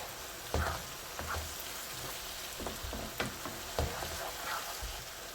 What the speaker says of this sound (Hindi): साथ साथ हम टमाटरों को इस तरह से मैश भी करते जाएंगे ताकि मसाला आपस में मिक्स हो जाए।